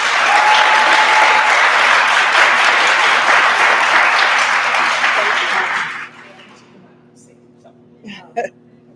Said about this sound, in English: And I'd like to give a round of applause to all of the candidates.